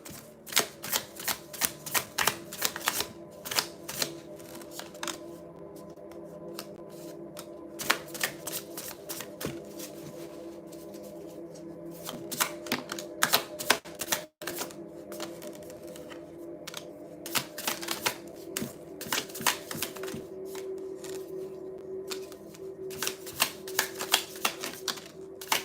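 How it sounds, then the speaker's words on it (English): A deck of tarot cards being shuffled by hand in repeated bursts of crisp riffling and flicking, close and fairly quiet, with short pauses between rounds and no talk. "Okay, I first shuffled, I got 2 cards. So I shuffled again,"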